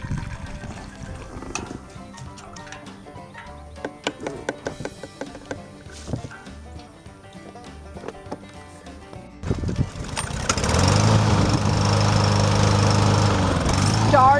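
A Murray Select lawn mower with a Briggs and Stratton engine catches on the first pull and settles into a loud, steady, droning idle, after a stretch of clattering activity and voices.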